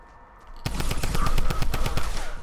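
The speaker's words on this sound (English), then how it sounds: "I literally love this drum gun." A drum gun in the Fortnite video game fires a rapid, evenly spaced burst of close, loud shots lasting about two seconds.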